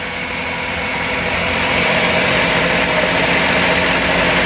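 A gasoline car engine idles steadily and loudly up close during a fuel pump pressure test at 40 PSI, a constant mechanical hum with no talking.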